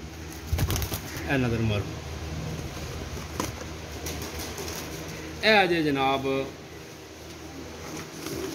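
Pigeons cooing at close range, a few throaty warbling coos rising and falling, with wing flaps and handling noise while someone talks over them.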